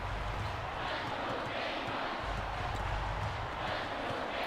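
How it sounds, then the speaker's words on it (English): Crowd cheering in the NCAA March Madness 2005 basketball video game, a steady broadband roar of arena noise that stays loud and continuous throughout, with no clear individual voices standing out. "As the crowd cheers for South Carolina."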